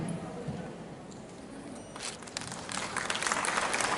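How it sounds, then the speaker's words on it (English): Audience applause at a North-East Festival awards ceremony in Agartala, building from scattered claps into fuller, louder clapping over the last two seconds. "please once again give a big round of applause for all the awardees from Assam"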